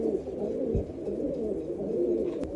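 Pigeons of a prized breeding line coo steadily in a low, throaty rolling murmur that carries on for the whole stretch, close by and fairly even in loudness, with no voices over it.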